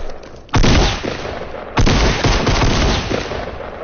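Two loud suppressed-pistol headshots fire in a PS4 shooter, about a second apart, each a sharp close crack followed by a rumbling tail, with no talk.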